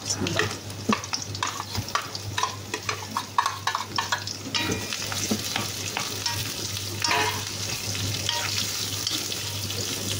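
Large onions fry in a hot pan while a utensil stirs them steadily: a continuous close sizzle broken by frequent scraping and clicking strokes, with no talking.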